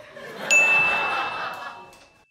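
A doorbell used as a comic sound effect gives a single clear ding that rings on and fades out over about two seconds, sounding alone with no voices.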